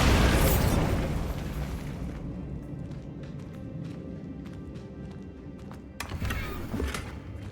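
A Bombarda spell explosion in the video game Hogwarts Legacy bursts loudly at the start and rumbles away, followed by quieter game ambience and a second, smaller impact near the end.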